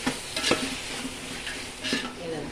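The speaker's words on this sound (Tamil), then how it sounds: "இந்த பாருமா வெங்காயம் தக்காளி வதங்குது" Onions and tomatoes frying with ginger, garlic and masala in a pan for chicken kuzhambu, a continuous sizzle with close spatula stirs and scrapes at intervals, no voices.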